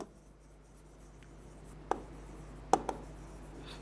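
Handwriting on a board during a pediatrics nursing lesson: quiet scratching with a few sharp taps of the pen, close but faint over a low steady hum.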